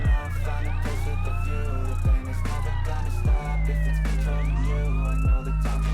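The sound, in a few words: police car siren in video game MTA San Andreas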